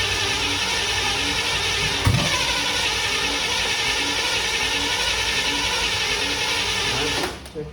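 The engine of a 1955 Chevy Bel Air being revived runs loud and close with a steady, buzzing idle, a brief bump early on, then cuts out abruptly near the end.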